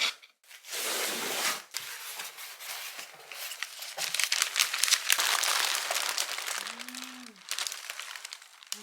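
A delivery parcel is unboxed, with plastic and paper packaging crinkling, rustling and tearing in close, irregular bursts separated by brief pauses, and no voices.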